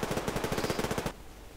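Rapid automatic gunfire in the online shooter Survarium, a fast even burst of about a dozen shots lasting roughly a second, loud and close, then cutting off to quiet background.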